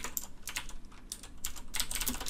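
Code is typed on a computer keyboard in quick, irregular bursts of crisp key clicks, close up and clear, with no voice.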